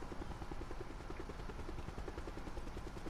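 Helicopter in the video game Call of Duty Blackout, its rotor thumping in a fast, steady rhythm with a loud, continuous engine roar throughout.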